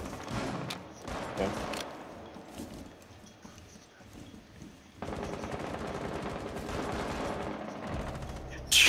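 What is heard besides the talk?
gunfire through a window in Rainbow Six Siege video game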